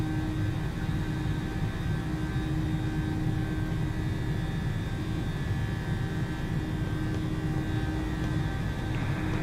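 Steady, loud jet engine roar from a PMDG 737-800 at takeoff thrust in Microsoft Flight Simulator, a continuous broadband rumble with faint tonal whine holding level throughout and no talk.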